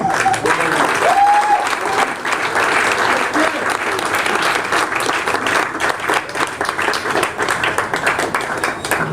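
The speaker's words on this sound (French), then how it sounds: "Allegra et Jocelyn, vous n'avez que ça en stock comme applaudissement" Audience applause, a sustained wash of clapping from a crowd that carries on throughout, with a brief voice heard early on.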